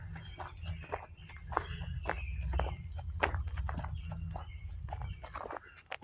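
Footsteps crunch steadily along a gravel road bed on an outdoor path after heavy rain, close by with an even walking rhythm and faint background sounds.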